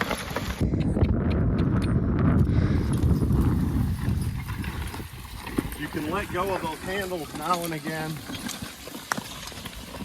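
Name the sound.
horse hooves walking while pulling a plow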